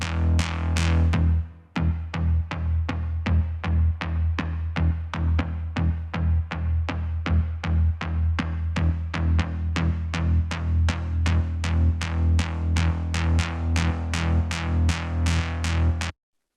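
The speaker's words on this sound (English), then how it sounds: "So that's a fun bass." A solo electronic bass line for a kick-and-bass sidechain compression lesson plays a steady stream of punchy repeating notes. It opens with one long sustained tone, then runs a tight rhythmic pulse at even, loud level with no voices.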